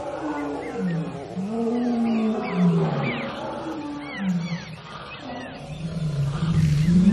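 A lion in the Safari Adventures: Africa video game in the mountains of Tanzania, giving a long series of deep, rumbling roars and groans, loud and close over a steady game soundscape.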